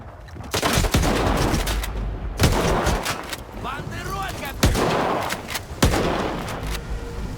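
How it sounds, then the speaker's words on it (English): Shotgun blasts in the video game S.T.A.L.K.E.R. 2 boom out in a loud string of about five shots spaced a second or more apart, with a faint voice in between. "But would you look at this? This is a shotgun."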